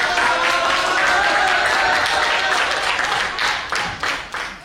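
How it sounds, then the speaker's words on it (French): Loud sustained applause from an audience at a school of oratory and African leadership after a candidate passes a public speaking test, dense clapping throughout that thins and fades toward the end. "Un tonnerre d'applaudissements est entendu."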